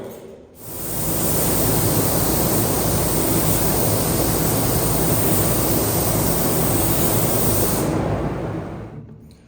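A spray gun fitted with the recommended tip lays primer coats over bare metal, a steady, close, continuous hiss of air and atomized paint that runs unbroken for about nine seconds, then cuts off.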